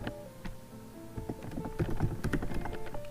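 Quick, irregular clicking of a computer keyboard as text is typed into a file, close and fairly quiet, with bursts of keystrokes growing denser toward the end.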